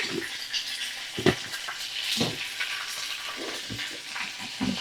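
Food fries in a pan with salt, a steady close sizzle broken by scraping stirs and a few soft knocks of the utensil.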